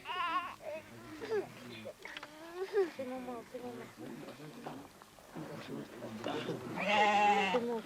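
A flock of sheep bleats at a rural family ritual in the highlands of Cusco, Peru, with repeated wavering bleats from several animals at close range and a loud cry near the end, and people talking in the background.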